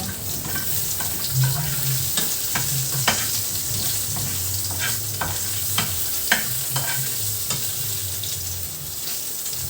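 Pork stirred in a sizzling cooking pan, a steady fry hiss throughout with repeated sharp scrapes and clicks of the utensil against the pan at an irregular pace, close and fairly loud, with no talking.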